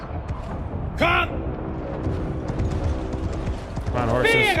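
Horses galloping in a video game battle, a steady rumble of hooves with a horse whinny partway through and another at the end, loud and close.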